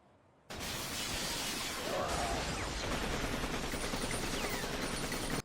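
Submachine gun fire in a Cowboy Bebop battle, a sustained, dense stream of shots with crashing noise, loud and continuous after a sudden start and cutting off sharply at the end.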